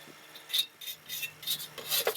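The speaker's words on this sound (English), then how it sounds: "I just use my putty knife and scrape off the, I don't know what those are called, they cover the burners" A putty knife scrapes grease and soot off the metal burner covers of a gas grill: repeated short, harsh rasping strokes, close and fairly quiet, with brief pauses between them and no talking.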